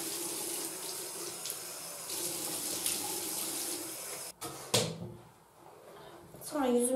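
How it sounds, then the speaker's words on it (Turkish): Lukewarm water runs steadily from a sink tap as a face is washed, with splashing over the flow, then a pause and louder close splashes near the end; a voice can be heard over the running water. "Şimdi ben yüzümü yıkayacağım. Ilık suyla."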